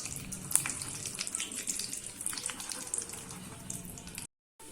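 Peanuts dry-roasting in a pan over a medium flame, a dense crackle of light ticks and rattles that runs steadily before cutting to brief silence at the end.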